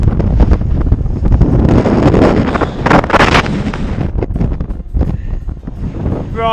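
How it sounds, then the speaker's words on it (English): Strong wind between San Pedro, Chile and San Juan, Bolivia buffets the microphone in loud, roaring gusts that rise and fall throughout, with no talking. "really very windy now"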